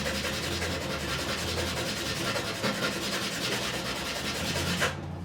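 Steady, rhythmic scraping of a guitar nut for a Gibson Les Paul rubbed back and forth on sandpaper over a flat surface, close and continuous for several seconds before stopping.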